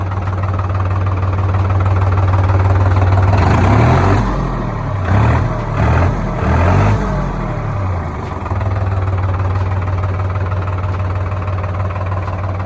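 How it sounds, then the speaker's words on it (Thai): Diesel engine of a New Holland TT3.50plus tractor idles close by, then revs up in several short bursts of acceleration before dropping back to a steady low idle; no one speaks. "เร่งเครื่องให้ฟังนะครับผม"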